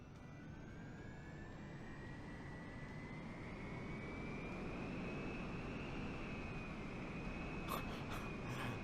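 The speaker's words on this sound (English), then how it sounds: "we're flying VTOL in a Harrier jump jet in VR" Harrier jump jet hovering in vertical takeoff mode in SimplePlanes VR, a steady loud jet engine roar with a slowly rising whine holding throughout, plus a few brief clicks near the end.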